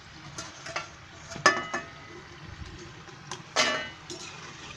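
Salted shankarpali frying in hot oil in a home kitchen, a soft steady sizzle with a few sharper clinks and stirs of a utensil against the pan, fairly quiet and with no talk.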